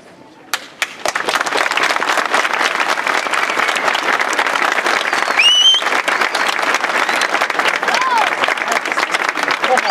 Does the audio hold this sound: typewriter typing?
no